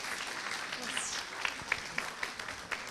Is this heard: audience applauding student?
yes